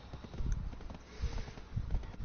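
Horse hooves in the online role-playing game Black Desert Online clop along in a quick, steady gallop rhythm, close and moderately loud, with no voices over them.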